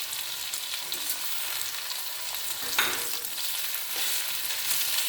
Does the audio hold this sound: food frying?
yes